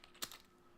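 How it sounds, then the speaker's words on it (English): A brief burst of keystrokes on a computer keyboard, a couple of quick clacks close to the mic against a quiet room, with no talking. "I'm in front of myself typing."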